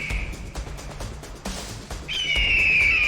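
A shrill, high-pitched eagle cry rings out, held briefly at first, then returns longer and louder against faint background noise, in a 3D animated children's story.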